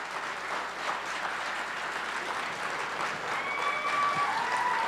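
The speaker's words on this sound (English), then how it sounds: "Give yourselves a round of applause today." Audience applause at an MLK Day convocation at Oakland Community College, a steady wash of clapping from a large crowd that holds even and swells slightly toward the end, with no talking over it.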